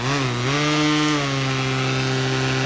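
A Ryobi 18-volt cordless string trimmer runs steadily and loud, its motor whine rising in pitch during the first half-second and then holding a constant tone.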